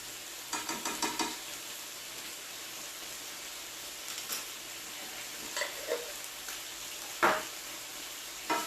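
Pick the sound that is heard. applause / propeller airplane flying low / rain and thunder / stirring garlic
stirring garlic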